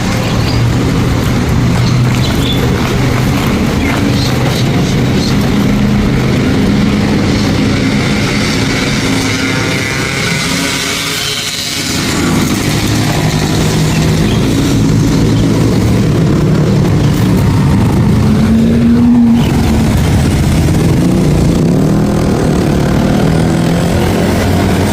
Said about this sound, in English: This is the traffic going